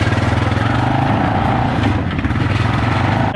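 A Honda Rancher 420 ATV engine runs while riding on a hot day, giving a loud, steady, throbbing drone that stays even throughout.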